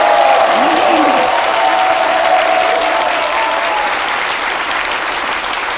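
An audience claps together in a dense, steady wave of applause that tapers off slightly toward the end.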